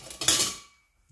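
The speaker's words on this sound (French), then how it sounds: "on vient récupérer nos tranches et on vient les placer délicatement dans la poêle" Bacon slices are set into a frying pan holding a little cola, making one short clatter of metal and cookware that fades quickly into silence.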